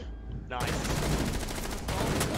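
A revolver firing in the tactical shooter game Rainbow Six Siege: a sudden, loud blast breaks in after a brief quieter moment, then a dense, sustained roar of gunfire continues with some speech mixed in.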